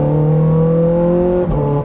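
A Ferrari 430 Scuderia engine pulls hard under acceleration, a loud, close, rising whine with a rough rumble beneath and a brief dip near the end, with no talking.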